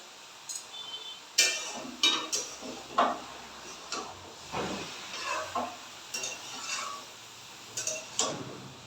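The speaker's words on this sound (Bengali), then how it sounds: "এবার ভালো করে নেড়ে দেবো।" Fish head curry being stirred in a cooking pan, with irregular metallic clinks and taps of a utensil against the pan over a low background hiss, close by and unaccompanied by talk.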